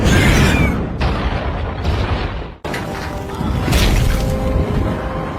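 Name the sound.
explosion drawing out the queen in the film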